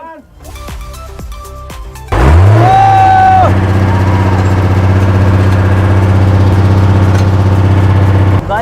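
A big six-cylinder diesel road roller engine cranks and roars into life, then settles into a loud, steady rumbling idle close by.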